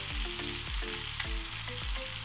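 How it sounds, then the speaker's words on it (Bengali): Meat sizzles loudly in a hot pan with spices for a pot-covered biryani, a constant close frying hiss broken by regular rhythmic scrapes and thumps of a spoon stirring about every half second. "মশলার সাথে মাংসগুলোকে মিনিট 2 কষিয়ে নিলাম।"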